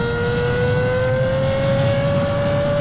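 A Ferrari F12 Berlinetta's 6.3-liter naturally aspirated V12 holds a loud, smooth, high whine whose pitch climbs slowly and steadily, with no voices.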